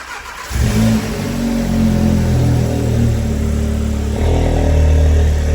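A wrecked Audi R8 engine revs hard up close, its loud roar climbing and holding, then surging again in a second rev near the end, with no voices.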